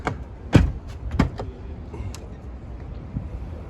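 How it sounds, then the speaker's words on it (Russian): At a truck show, a Chinese truck's cab door shuts with a solid thud, followed by a second, lighter clunk and some faint rattles in a quiet, echoey space. "Хотя закрывается дверь классно."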